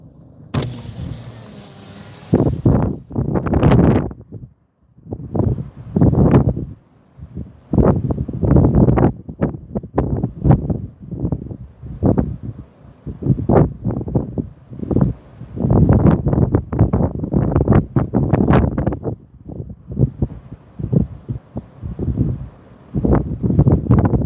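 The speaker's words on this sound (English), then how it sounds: "you know how windy it is" Strong gusts of wind at the Filey Brig country park car park buffet the microphone in irregular roaring surges, loud and continuous with brief lulls between blasts.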